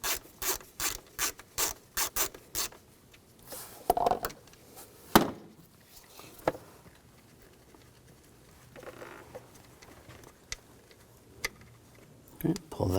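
A ratchet turns a T40 socket on a bolt under the intake manifold of a 2000-2006 BMW X5 3.0L inline-six, giving a steady run of close clicking strokes, then a few scattered knocks and handling sounds.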